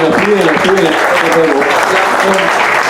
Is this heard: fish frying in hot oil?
no